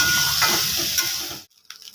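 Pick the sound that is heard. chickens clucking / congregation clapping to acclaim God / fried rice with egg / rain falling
fried rice with egg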